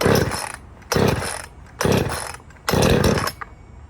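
Four quick pull-cord yanks on a Poulan Pro P3816 gas chainsaw, set to choke out and no throttle, each a loud ratcheting rasp followed by a brief pause, with the engine not catching.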